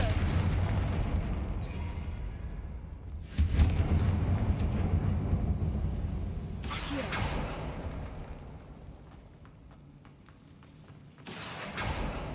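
A Confringo fire spell from Hogwarts Legacy bursts in several loud booming blasts, each followed by a rumbling fade, with a quieter stretch between them.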